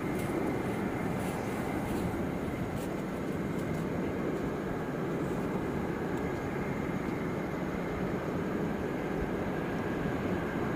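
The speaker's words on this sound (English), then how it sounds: "There's your KC-135 no doubt uh, carrying out exercises during the day refueling those Raptors" A KC-135 tanker flies past near Ted Stevens International Airport in Anchorage, its steady broadband jet roar filling the whole stretch at moderate, even loudness with no talk over it.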